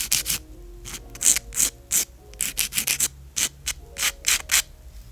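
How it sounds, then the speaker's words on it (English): An acrylic nail tip being filed with a nail file, heard as a series of short, close rasping strokes in uneven bursts with brief pauses between them, no voices. "I'm gonna continue filing here"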